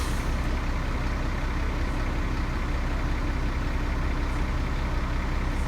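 A Volvo B10BLE bus sits stopped with its engine idling, a dense, steady diesel rumble heard from on board, constant and unbroken with no voices.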